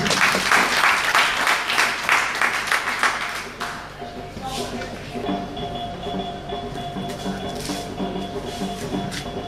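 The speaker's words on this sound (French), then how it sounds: "Applaudissez encore une fois pour lui." A forum audience on digital careers in Porto-Novo claps loudly for a panel speaker, the applause fading after a few seconds as a voice begins speaking over a faint background hum.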